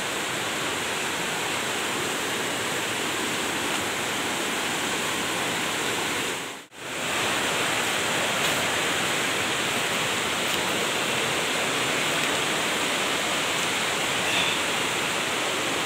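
Steady broadband rush of the Cimandiri river flowing along its bank, a continuous wash of water that holds even and fairly loud throughout, with one brief dropout near the middle.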